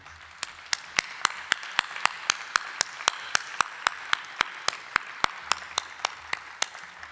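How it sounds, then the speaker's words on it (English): Sharp, evenly spaced claps ring out at a steady beat for several seconds at a university graduation ceremony, likely a single nearby pair of hands or a sparse audience honouring the teachers, with faint room murmur underneath. "join me in thanking them for supporting you on their journey with a round of applause"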